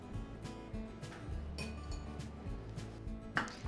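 Plain flour (maida), baking soda and baking powder get mixed in a bowl for eggless cupcakes, with soft, quiet clinks and scraping of a utensil against the bowl in an irregular rhythm.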